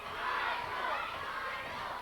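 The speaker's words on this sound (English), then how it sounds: "The crowd cheering for the Priest of Punishment, trying to will him forward." A wrestling crowd cheers at an NWA Anarchy Fright Night show, a broad, steady roar of many voices that swells briefly and stays loud throughout the short stretch.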